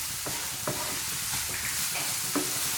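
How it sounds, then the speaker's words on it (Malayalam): Vegetables sautéing over a high flame for egg fried rice, a steady loud sizzle with a few sharp spatula scrapes and stirring knocks close by. "ഹൈ ഫ്ലെയിമിൽ വെച്ചിട്ട് തന്നെയാണ് കേട്ടോ ഞാനിത് വഴറ്റിയെടുക്കണത്."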